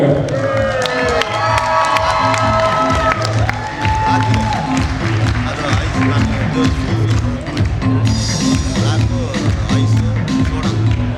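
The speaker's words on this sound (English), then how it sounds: "let's get a nice round of applause for the groom's father" Wedding reception guests cheer and applaud for the groom's father, a loud crowd roar with clapping and excited shouts layered over pounding rhythmic music that keeps a steady beat throughout.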